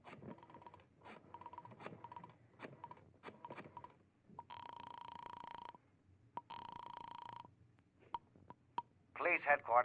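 An old telephone being dialed in a 1950 radio drama, with rotary dial clicks followed by two long ringing tones through the earpiece, then a voice answering as the line connects.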